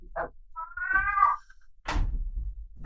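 A house cat meows three times close by: a short call, a longer drawn-out wavering meow, then a brief final cry, with quiet gaps between and no voices.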